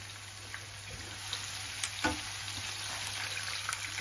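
Chopped onion sautéing with a pinch of salt in a pan for a zucchini tortilla gives a quiet, steady sizzle with a few soft stirring scrapes and taps, close by and without speech.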